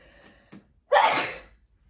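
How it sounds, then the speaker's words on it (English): A sharp inhale followed by a single loud, close sneeze while scrapbooking with cardstock, then quiet. "I sneeze when I scrapbook, and I don't know why."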